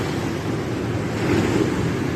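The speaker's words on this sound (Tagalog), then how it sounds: "galit na galit ang dagat ngayon." Rough sea surf rolls and crashes in a steady, loud wash, with strong wind buffeting the microphone throughout and no voices.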